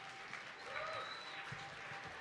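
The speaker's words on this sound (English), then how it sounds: "They all deserve a huge cheer and round of applause for our finalists" Faint, steady applause from a distant audience at a whisky awards ceremony, a continuous wash of clapping with no voices standing out.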